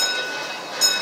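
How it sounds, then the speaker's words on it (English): Amusement park train ride at Six Flags St Louis, a steady rumbling rolling noise from the moving train with a brief swell near the end, close and continuous with no talk. "Hey, look, a train."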